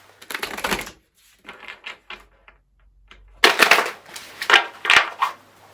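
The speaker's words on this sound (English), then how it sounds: "We're going to shuffle these tarot cards and see what comes through for you." Tarot cards being shuffled by hand: bursts of crisp riffling and slapping card noise, a short flurry, a lull with soft taps, then a longer, louder run of shuffling close up.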